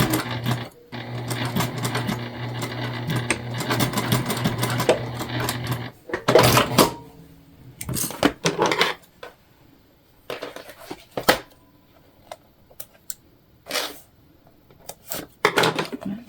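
A sewing machine runs a fast buzzing stitch on a placemat pouch for about six seconds, then breaks into short back-stitch bursts separated by pauses and handling clatter, close and loud.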